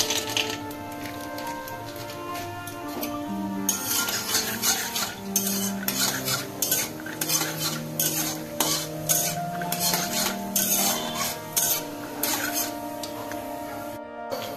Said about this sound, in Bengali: এই তেলে আমি বাদামগুলো আগে ভেজে নেব।